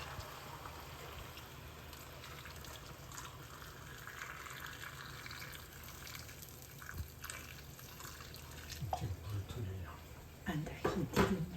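Cold tap water runs steadily into a pot for beef soup, a continuous rushing fill under people talking, with louder splashing and clatter near the end.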